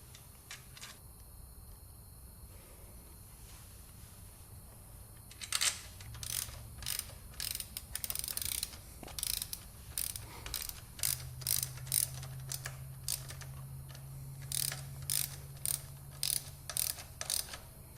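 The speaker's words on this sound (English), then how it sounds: "We'll get the torque specs on this and tighten it down to spec" Ratchet wrench tightening the rear set bolts on a Yamaha MT-09 (FZ-09) motorcycle during a Lextek rear set install, a quiet stretch first, then repeated quick clicking bursts close up over a low background hum.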